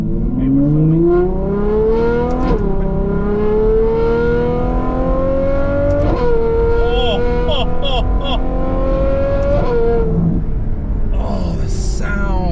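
A Novitec-tuned Ferrari 812 N-Largo V12 with a seven-speed dual-clutch gearbox revs hard and loud from inside the car, pitch climbing in three long rising pulls with brief drops at each gear change.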